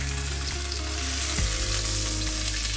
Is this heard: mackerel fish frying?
yes